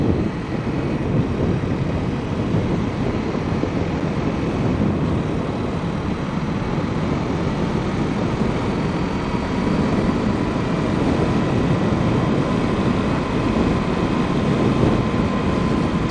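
A Honda CRF250L motorcycle cruises at 55 mph with its engine at just under 6,000 rpm, giving a constant droning engine note mixed with heavy wind rush, loud and unbroken throughout.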